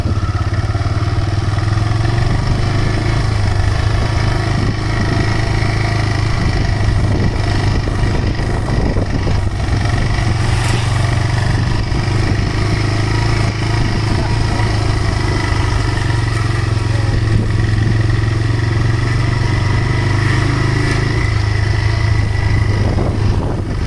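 A motorcycle engine runs steadily and loudly throughout, a continuous mid-pitched drone with wind noise, as if heard while riding.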